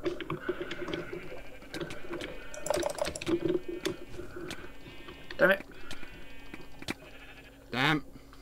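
Sheep bleat in the Minecraft game on the Mineplex server, two sharp wavering baas standing out clearly amid rapid keyboard typing and clicking, with a player talking over parts of it.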